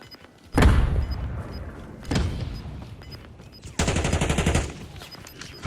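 Bursts of rapid gunfire in Call of Duty Warzone rattle in three separate volleys, loud and sharp, with brief quieter gaps between them.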